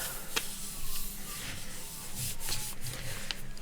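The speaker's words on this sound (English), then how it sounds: "Give it a rub." A hand rubbing a photo print flat against a gel printing plate gives a steady, soft, close scraping hiss for several seconds, with no voices.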